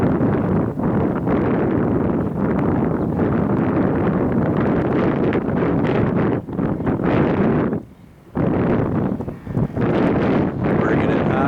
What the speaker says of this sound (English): that wind is coming across, I mean, straight across the runway